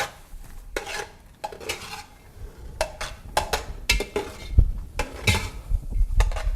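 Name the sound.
onion cooking and being stirred in pan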